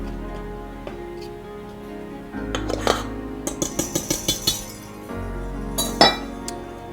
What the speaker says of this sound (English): you take your whisk and you kind of just stir around in the flour to make sure it is well sifted and blended good